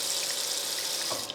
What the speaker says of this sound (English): So you just add some water to the pot.